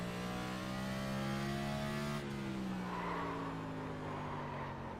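Race car in iRacing braking hard with the front tyres locking, a sustained engine drone falling in pitch with a squealing skid texture, no talking.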